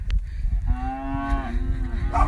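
A cow in a field lets out a single long, drawn-out moo that rises and holds, close and loud, with faint rustling before and after.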